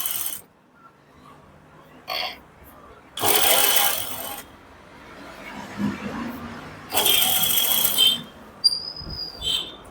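Sewing machine stitching a pot-neck blouse, running in loud bursts of a few seconds each with quieter handling noise and faint room sound between them.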